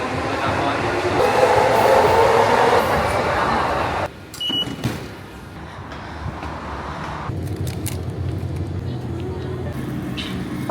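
A train in Japan riding along: loud rumbling and rolling noise that drops away suddenly partway through, then a quieter steady hum of the carriage, with a short high beep in between.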